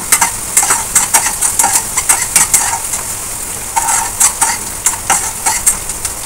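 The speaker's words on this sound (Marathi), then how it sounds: "कांदा आपला शिजत आला आहे" Chopped onion frying in a home kitchen pan, salted, stirred with a spoon in repeated scraping strokes over a steady close sizzle, with no voices.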